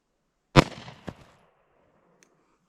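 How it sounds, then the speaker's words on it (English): A single loud, close 9mm full metal jacket pistol shot from a P365 XL, with a sharp crack and a quick decaying tail, then a smaller second impact and a faint tick. "we have a round of 9mm full metal jacket out of the 6 Hour P365 XL"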